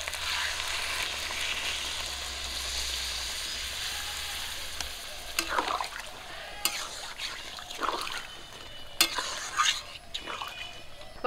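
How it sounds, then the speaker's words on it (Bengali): Spiced mutton frying in a pan sizzles steadily as water is poured in, settling into a softer hiss broken by scattered clinks and stirring noises. "কষান করার জন্য জল দিয়ে দিচ্ছি।"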